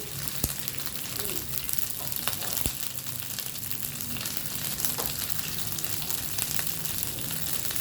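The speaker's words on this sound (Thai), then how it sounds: "ผัดพริกให้หอมก่อน" Chili paste stir-fries in a pan for a pineapple curry with snails and tilapia, giving a steady, close hiss and crackle of sizzling with occasional clicks of stirring throughout.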